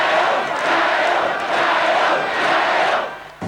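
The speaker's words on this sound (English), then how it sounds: "But the greatest cheer was reserved for the man who coached them to victory." A large crowd of Australian football supporters roars and cheers for the coach of a 1990 Grand Final premiership side, a dense, loud swell of voices rising in two waves before easing off at the end.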